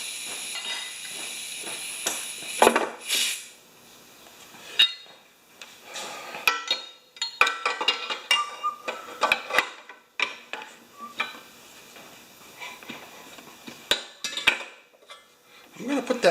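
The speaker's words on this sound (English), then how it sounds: "Pry bar and a punch." A pry bar and punch work on a Honda GCV 160 engine during teardown, giving a run of close metallic clanks, taps and scrapes in irregular bursts with short quiet gaps between.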